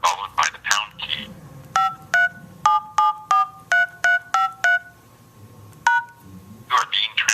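A run of about ten short telephone keypad DTMF beeps keys in a number, evenly spaced and clear, with a recorded voice prompting before and after the tones.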